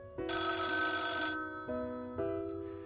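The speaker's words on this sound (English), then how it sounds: "The phone rings." A telephone rings in a quiet room: a bright electronic trill rises sharply, holds for about a second, then two shorter tones follow in a stepped pattern, clear and alone with no voices.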